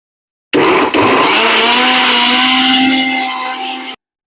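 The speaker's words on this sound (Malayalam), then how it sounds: "ഇനി ഇതെല്ലാം കൂടി നമുക്കൊന്ന് ബ്ലെൻഡ് ചെയ്തെടുക്കാം." A kitchen mixer blends snake gourd with ice and honey in its jar, a loud close whirring roar that starts abruptly, briefly stutters, runs steadily and then cuts off.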